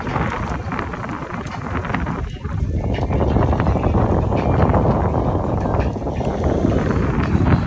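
Strong wind buffets the microphone at Kyotango beach, a continuous heavy roaring rumble with gusty surges across the whole stretch.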